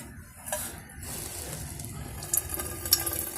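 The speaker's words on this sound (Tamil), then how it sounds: "இதை நம்ம புழிஞ்சாலே சாறு வரும்." Ground sugarcane pulp squeezed by hand releases juice that trickles and splashes softly into a container, with a couple of small clinks and no one talking.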